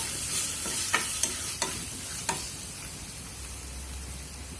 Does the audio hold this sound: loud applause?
no